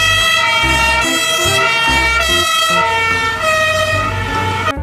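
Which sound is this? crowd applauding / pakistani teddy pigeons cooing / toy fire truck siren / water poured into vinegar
toy fire truck siren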